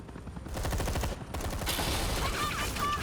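Rapid automatic gunfire in the video game Batman The Enemy Within, loud sustained bursts of shots rattling continuously with a brief gap, plus a few high ricochet-like pings near the end.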